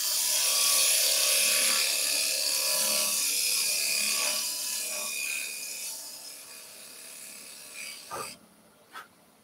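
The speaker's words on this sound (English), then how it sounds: "Fluted parting tool. Going to create our bead." A fluted parting tool cutting a bead into wood spinning on a lathe, a loud, steady hissing scrape close up that fades as the cut eases off and ends with a couple of brief knocks.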